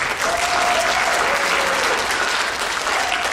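An audience claps for a dancer being introduced at a dance show finale, a thick, even burst of applause filling the room at constant loudness, with a faint vocal whoop rising briefly above it.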